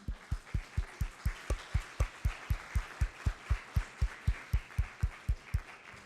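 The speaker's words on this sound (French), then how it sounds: "je pense qu'on peut les applaudir pour leur travail" Steady rhythmic clapping from a crowd at an archaeology conservation conference, evenly paced and sustained, like an audience applauding in unison.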